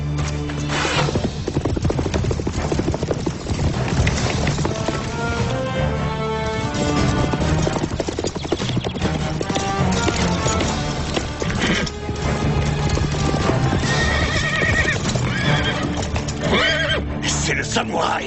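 A horse neighs and whinnies amid galloping hoofbeats and splintering wood in a medieval Robin Hood adventure scene, loud and continuous under a dense music bed with voices mixed in.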